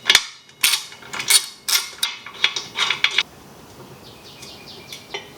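Motorcycle wheel rotor bolts broken loose with a tool during disassembly: a run of sharp close metallic clicks and ratchet creaks, then quieter faint clinks.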